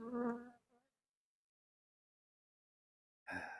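Honey bees around an open beehive during an inspection give a brief close buzz, fall silent for a few seconds, then buzz loudly again.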